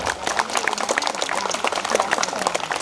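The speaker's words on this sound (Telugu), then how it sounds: "గట్టిగా చేతులు ఎత్తి గట్టిగా చప్పట్లు కొట్టండి ఒకసారి ఒక్కసారి గట్టిగా" Crowd applause at a Vinayaka Swamy annual festival cultural program in Rajiv Nagar, Ongole: dense, steady clapping from many hands, sustained and fairly loud throughout with no pauses.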